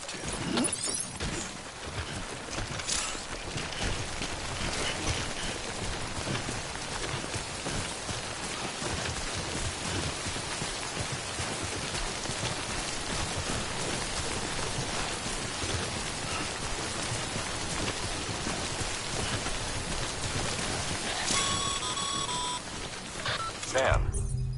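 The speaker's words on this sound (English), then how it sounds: "Don't stay out in the rain any longer than you have to." Timefall rain pours steadily in Death Stranding, a dense, even hiss of falling drops that holds throughout, with faint electronic beeps near the end.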